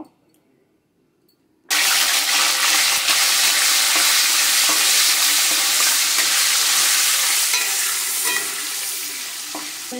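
Paneer cubes lightly salted and frying in a pan on a dhaba-style mixed vegetable dish, a loud steady sizzle that starts abruptly after a quiet moment and runs on with scraping stirs, no talk.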